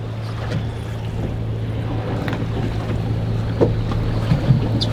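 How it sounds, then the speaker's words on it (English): Heavy wind buffets a fishing boat out on the water in Rhode Island, giving a continuous low rumble of gusts and microphone wind noise with a steady hum underneath and a few small knocks. "It's very windy today."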